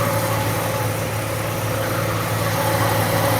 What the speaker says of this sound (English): AC's off, fan's still running.